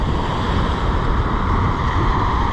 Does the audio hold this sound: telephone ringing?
no